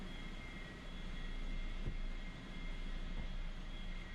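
An airplane engine drones steadily in a flight video game, a constant broad roar that swells slightly as the throttle opens, with no talk.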